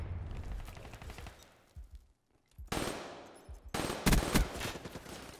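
Gunfire in Call of Duty Black Ops 3 comes in quick automatic bursts, with a brief lull and then louder, sharp volleys near the end.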